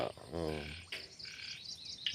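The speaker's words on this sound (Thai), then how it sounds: "เสียงเขียดร้องแอ๊ะแอ๊นะ" Frogs croak in short, raspy bursts, one louder call near the start followed by fainter croaks, against a quiet outdoor background.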